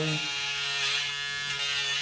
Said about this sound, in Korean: 자, 면도를 시작합니다.